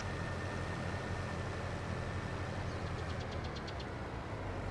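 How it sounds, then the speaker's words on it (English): A tractor engine in Farming Simulator 22 runs unattended, a steady low drone that fills the background without change, with a brief ticking patter near the end. "I left my tractor running."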